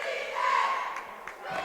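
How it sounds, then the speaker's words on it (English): Crowd at a girls' high school basketball game, with the Archers fans cheering and shouting in a steady, moderately distant roar. "as the Archer crowd begins to cheer."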